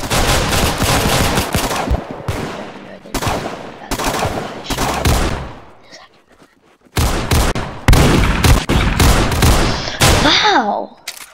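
Repeated bursts of gunfire from the online shooter game Arsenal, loud and near, firing in rapid volleys with short pauses between, over game effects and some voices.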